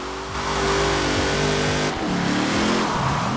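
A 2012 Jeep Wrangler Rubicon AWD drift build revs hard and holds high engine speed, rising and falling with a brief dip partway, loud and close.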